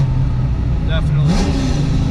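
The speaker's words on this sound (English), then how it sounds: "usually these blower cars in first gear like this, like, they just want to buck" Supercharged 1988 Foxbody car engine in first gear, a steady low idle-like drone with a brief rev rising around the middle, heard close and continuous with some voice present.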